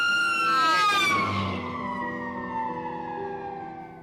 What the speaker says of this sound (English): It's similar to the way a siren distorts as an ambulance races past us.